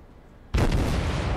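A naval gun on a tier 7 American destroyer, the Mahan, fires in World of Warships, a single sudden loud blast cutting in after quiet, followed by a sustained rumbling roar.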